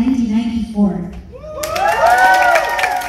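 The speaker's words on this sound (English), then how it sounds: "here's for the round of applause" A university audience at a career talk during UST CICS Week bursts into loud cheering, shouting and clapping after a short stretch of speech, the noise building and staying strong to the end.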